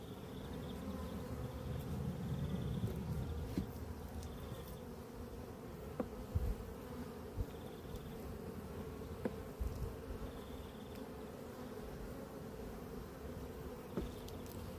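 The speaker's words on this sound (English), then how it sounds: "I'm only going to bring one frame of bees down." Honey bees buzz steadily around a brood frame lifted from a hive at an apiary, a dense, continuous drone close by with occasional louder passes and small knocks of handling.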